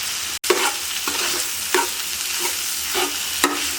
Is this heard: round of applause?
no